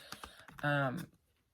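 Tarot cards are shuffled by hand in a series of quick, light, close taps and flicks, with a voice briefly speaking over them.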